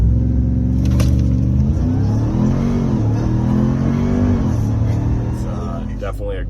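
A Ram TRX pickup truck's engine revs hard while towing, a loud, deep roar rising and settling through the whole stretch, close and dominant with no talk.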